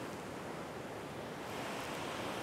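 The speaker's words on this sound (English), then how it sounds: "This is a perfect example of stormwater runoff. It's a lot of water running." Stormwater runoff rushes toward the sea on the eastern end of Long Island, a constant broadband wash of flowing water, steady and fairly close, with no speech.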